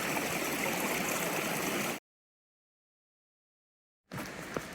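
Creek water flowing along Porter's Creek in the Smokies, a steady broadband rush and gurgle, fairly close, that cuts to silence partway through and then resumes.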